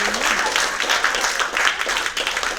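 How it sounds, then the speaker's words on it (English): Audience applause at a talk on communication between men and women, steady dense clapping filling the room for a few seconds, with some talk mixed in. "Oh, I got applause."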